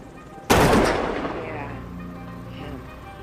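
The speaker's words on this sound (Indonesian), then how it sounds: "Sang penjahat pun ditembak mati sebelum meraih pistolnya kembali." A single loud gunshot in a film scene, an abrupt sharp blast followed by a long decaying echo that fades over a few seconds, with no voices.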